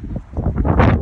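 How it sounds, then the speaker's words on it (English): Wind gusts buffet the microphone at an outdoor skatepark, a brief, loud, rumbling rush with uneven pulses and no one speaking. "It's pretty windy."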